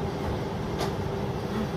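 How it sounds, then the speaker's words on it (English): Rumble of a cargo train approaching along a railway line, a steady low-pitched drone with a brief rushing swell, heard from inside a passenger train. "That means a cargo train or something is coming,"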